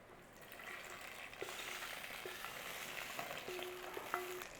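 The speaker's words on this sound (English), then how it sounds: "Nice gentle stir through." Sweet pongal with ghee is stirred gently in a pot, a soft, quiet sizzle with faint scraping strokes and a few light clinks, heard alone without speech.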